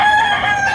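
A rooster crows at a chicken auction market in Lipa City, a loud, close, sustained call filling the short moment with no talking.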